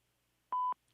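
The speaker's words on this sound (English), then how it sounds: "At the tone, please record your message." A single steady voicemail recording beep, about a fifth of a second long, sounding clearly and alone against near silence.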